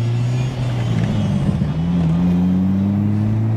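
A Toyota A90 Supra fitted with an aftermarket exhaust accelerating up close, its loud, steady engine drone climbing smoothly in pitch over a few seconds without a break.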